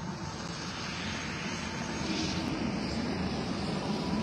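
A white airplane's engine roars steadily on an airport apron, a continuous broadband drone with no talk over it.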